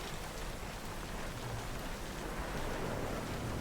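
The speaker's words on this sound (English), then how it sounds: "It's raining!" Rain falling in the video game Cyberpunk 2077, a steady, even hiss of downpour that stays constant throughout without any break.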